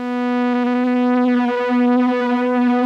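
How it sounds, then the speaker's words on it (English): Walrus D1 delay pedal on a synth tone, a steady sustained note whose pitch wavers with tape-style wow and flutter modulation, loud and alone with no talking. "you're gonna hear the pitch modulation flutter a bit"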